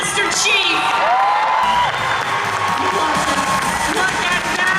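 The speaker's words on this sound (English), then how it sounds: "Give a round of applause for Miss Boof as Master Chief" An audience at Emerald City Comicon 2023 cheers and claps for an armor-category costume winner dressed as Master Chief, with whoops and crowd shouts running continuously and some voices mixed in.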